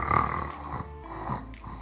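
A doctor imitates snoring with his voice, giving a couple of rough, rasping snore-like breaths close to the microphone.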